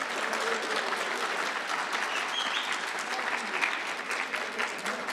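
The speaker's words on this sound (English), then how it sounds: "let's give them all a round of applause as they leave the stage" Contestants leave the stage at a Pan African Mathematics Olympiad ceremony to steady, sustained audience applause, even and fairly full, with faint crowd murmur mixed in.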